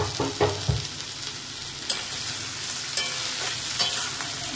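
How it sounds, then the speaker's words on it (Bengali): Sausages frying in a hot pan give off a steady, dense sizzle and crackle with a few soft stirring knocks near the start, sustained and close throughout. "এর মধ্যেই সসেজেস গুলোকে দিয়ে দিলাম, এর মধ্যেই ফ্রাই হয়ে যাবে আরামসে"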